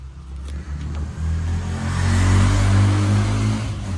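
A Toyota Innova Reborn diesel automatic, V grade 2021, idles close by with a low steady rumble that swells as the engine revs up and holds a stronger drone, with no voices over it.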